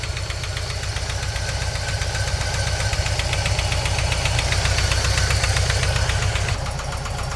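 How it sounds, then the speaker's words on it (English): Idling engine of a 1988 VW Vanagon fitted with a new muffler and catalytic converter, a steady close, loud rumble with a fast knocking pulse and no voices over it. "I can actually hear the engine."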